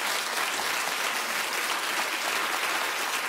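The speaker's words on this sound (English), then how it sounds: "Just clap." A studio audience at a talk show applauds, dense continuous clapping that holds steady and loud for the whole stretch, with no voices standing out.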